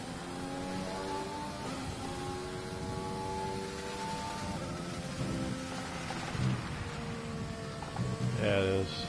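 Rain falls on a race track in a sim racing game in Belgium, a steady hiss beneath the droning, shifting tones of race car engines, with a few louder bursts near the end.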